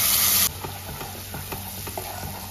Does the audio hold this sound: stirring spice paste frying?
yes